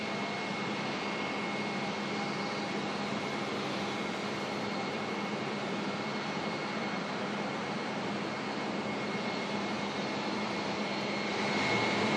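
A China Airlines airliner at Auckland Airport at night, bound for Brisbane, produces a steady, unbroken jet engine roar heard from a distance, holding constant throughout.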